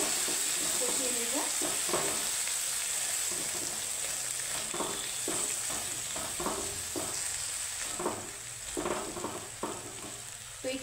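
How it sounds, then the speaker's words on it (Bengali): Spices sauté in a pan with a little water, making a steady hiss over repeated scraping strokes of a spoon, close and moderately loud, with occasional faint voice-like sounds underneath. "মশলার সাথে সুন্দর করে একটু কষিয়ে নেব।"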